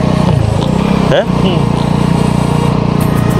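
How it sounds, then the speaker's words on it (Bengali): A motorbike rides along the sea beach at Kuakata, its engine a close, steady buzzing drone under brief talk. "সাগরের ধার দিয়ে বাইক চালানোর মজাই আলাদা। এই হচ্ছে আমাদের বাইক"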